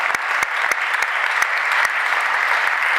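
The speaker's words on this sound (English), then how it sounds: "So if you guys can give a good applause." Audience applause at a Times Talks event in Madrid, a dense steady wash of many hands clapping together, sustained at even loudness throughout.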